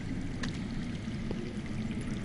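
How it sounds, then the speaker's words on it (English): Underground water flowing steadily beneath the ground in a fantasy setting, a continuous low rushing wash with a faint trickling edge, unbroken and without voices. "I hear water. From underground."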